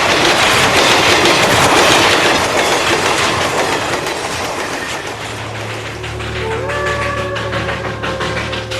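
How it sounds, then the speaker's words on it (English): A super-fast express train runs on Indian rails, loud and close, with a heavy rushing roar and rapid clickety-clack of wheels, later easing into a steadier rumble with faint squealing tones and a low engine drone. "the super-fast express trains command the rails"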